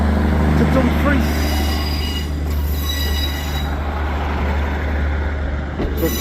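Passenger train 156518 running from Carlisle to Dumfries: a loud, close rumble of the railcar with high wheel squeal and engine drone carrying throughout, steady and continuous.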